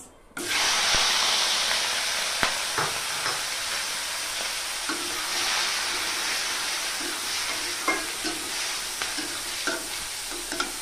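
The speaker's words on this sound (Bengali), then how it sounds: "এবার এই তেলে দিয়ে দেব একটু হলুদ গুঁড়ো আর দিয়ে দেব বেছে রাখা চিংড়ি মাছ" Shrimp dusted with turmeric powder sizzle and fry in hot mustard oil, a steady loud crackle with occasional stirring knocks and utensil taps throughout, no talking.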